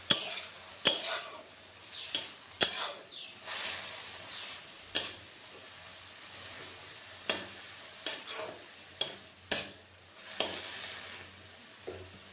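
Leafy greens frying in hot oil with dried chilli: a quiet, steady sizzle broken by a dozen sharp clinks and scrapes of a utensil against the pan, spaced irregularly, with no talking.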